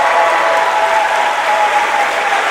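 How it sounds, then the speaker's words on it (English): Wrestling crowd at an All Pro Wrestling battle royal, roaring and applauding in a loud, continuous wash of clapping and cheering from a packed arena, with no clear voice on top. "Listen to the appreciative roar of this crowd."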